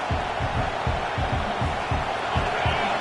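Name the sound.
video game stadium crowd roaring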